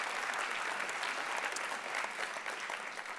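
Audience at a mentoring gala clapping steadily, a dense, sustained applause filling the room from start to finish.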